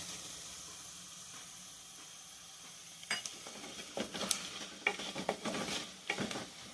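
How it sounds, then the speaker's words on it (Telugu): Dry meat pieces fry in a pan with onion and curry leaves for an Andhra-style curry, a soft steady sizzle that turns into bursts of scraping and clattering as the mixture is stirred. "ఎండు ముక్కలు బాగా వేగాయండి."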